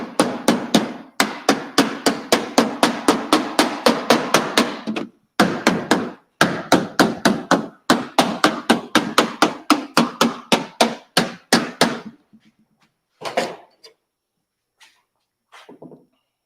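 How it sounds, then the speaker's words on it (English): A hammer strikes wood in a fast, steady run of sharp taps, pausing briefly once, then stopping with a few scattered knocks at the end. "I just have my hammer with me"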